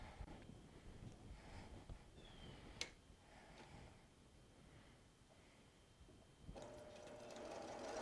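A household sewing machine stitches fabric over a dryer sheet, a steady rapid mechanical ticking and whirring with a sharp click partway through, running close and continuous at moderate volume.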